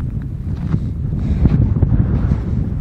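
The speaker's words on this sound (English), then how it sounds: "As that wind is picking up." Strong wind rising during a solo desert hike, a loud continuous roar of gusts battering the microphone at close range, with no talking.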